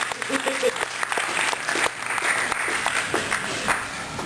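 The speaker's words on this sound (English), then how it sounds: "that deserves a round of applause" Audience at a cannabis town hall meeting claps in a round of applause, moderately loud and uneven, with a voice talking over part of the clapping.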